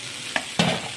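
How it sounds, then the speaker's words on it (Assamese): Goat meat and potatoes frying in a pan, a steady sizzle with two short stirring scrapes, the second louder and longer, close and without talk. "এতিয়া ছাগলীখিনি ভাজিব লাগিব বঢ়িয়াকৈ, ভাজি ল'ব লাগিব।"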